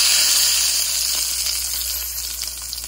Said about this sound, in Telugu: ఇప్పుడు తాలింపు వేస్తున్నాను దీంట్లో